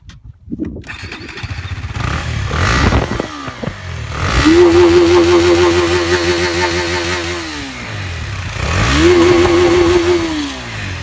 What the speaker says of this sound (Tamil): இந்த வண்டியோட எக்ஸாஸ்ட் சவுண்ட் எப்படி இருக்குன்னு நான் உங்களுக்கு சொல்கிறேன்